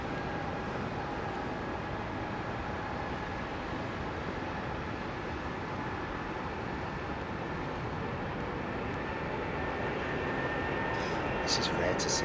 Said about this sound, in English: Air Belgium's 330 Neo.